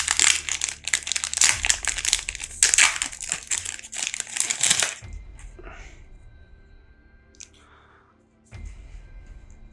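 A One Piece trading card booster pack, the last from a 24-pack display, crinkles and tears open in loud foil rustling for about five seconds, then quieter handling with a few faint rustles and a soft thump near the end.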